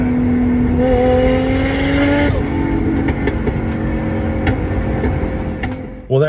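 A Toyota JZX110 car drives and revs hard, its engine note climbing steadily through a rising pitch for about two seconds before dropping into a rougher, steady loud drone, close and continuous with no talking.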